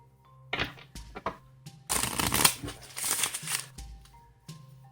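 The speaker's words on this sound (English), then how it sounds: "you have the spectator shuffle the cards, and this is a free shuffle." Playing cards riffled and shuffled several times in quick bursts of crisp flapping and clicking, close by, with brief quiet gaps between.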